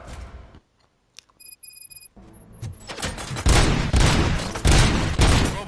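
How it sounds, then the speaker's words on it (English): RoboCop: Rogue City gunfire: after a quiet stretch with faint tones, a loud run of shots and booming blasts erupts and continues in dense bursts, close and forceful. "Gunshots? What's going on?"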